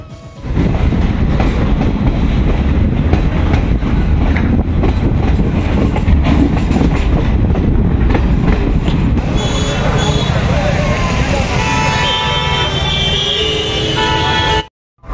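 A passenger train from Bishnupur bound for Howrah runs steadily on its rails, with a loud, continuous rumble and rattling carriage noise that fades abruptly at the end.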